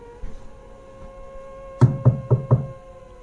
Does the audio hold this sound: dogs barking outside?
no